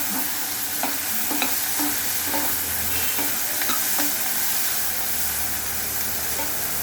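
Onions, ginger and garlic for a crab gravy sautéing in a pan, a close, steady sizzle with the repeated scrape and clack of stirring on top.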